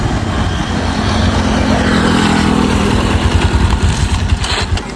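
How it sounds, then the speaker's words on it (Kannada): Motorcycle engine of a secondhand bike running steadily just after being refuelled with petrol, a continuous close, loud rumbling drone with a slightly rougher, pulsing edge toward the end and no talking. "ಈಗ ಇದ ಗಾಡಿಗೆ ಪೆಟ್ರೋಲ್ ಹಾಕಿ ನಾನು ನಮ್ಮ ಮಾವ ಕೂಡಿ ಒಂದ್ಸಲ ಟೆಸ್ಟ್ ಮಾಡ್ಬೇಕಂತ ಹೊಂಟಿವಿ"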